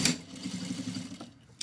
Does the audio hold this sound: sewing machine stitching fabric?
yes